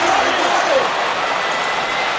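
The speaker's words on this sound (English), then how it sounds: "These fans are fired up." Crowd cheering and roaring in a basketball video game, a dense, steady wash of fan noise throughout at a loud level, with a faint voice briefly audible near the start.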